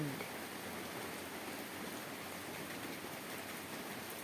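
Steady, dense hiss of heavy rain falling on a mountain farm without a break, even and continuous throughout.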